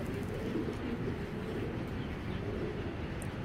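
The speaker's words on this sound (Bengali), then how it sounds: "হ্যাঁ, এটা একটা ইরাকের রেসার নর" A male Iraqi racing pigeon coos in a steady, low murmur that runs throughout, fairly close and unbroken, with no voices over it.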